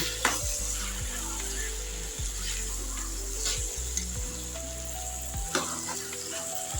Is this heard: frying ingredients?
yes